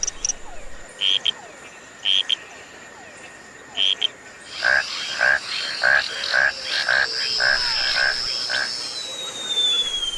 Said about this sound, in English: This noise is made by frogs.